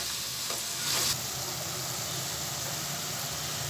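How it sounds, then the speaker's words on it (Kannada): Ridge gourd sautéing in a little oil in an open pan, a steady, soft sizzle and crackle running throughout with a brief brighter burst of hiss around the one-second mark, no voices. "ಅಡ್ಲುಕಾಯಿನ ಸ್ವಲ್ಪ ಎಣ್ಣೆಲಿ ಬಾಡಿಸ್ಕೊಳ್ಳಿ."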